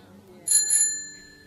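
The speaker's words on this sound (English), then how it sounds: "Every time you hear a bell ring, it means that some angel's got his wings." A small bell rings twice in quick succession in a scene from the film It's a Wonderful Life, bright metallic dings that ring out and fade over a quiet background.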